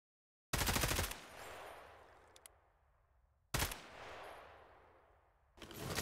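Two loud bursts of rapid automatic gunfire from a weapon in Garry's Mod, each a sharp short volley trailing into a long fading echo, with a third burst starting at the end.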